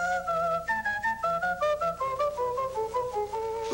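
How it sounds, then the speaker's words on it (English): A whistle synthesizer sounds bright whistled tones that step through a melody over a lower accompanying line, the notes gliding between pitches with a steady, sustained sound. "that generates a sound which is lower than the whistle"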